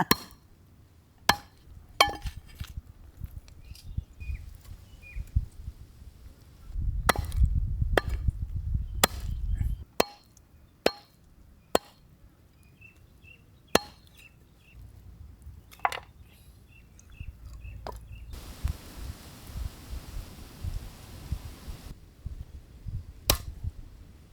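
Country chicken chopped with a knife on a board gives sharp, distinct blows at irregular intervals, loud and close, with quieter handling noises between them.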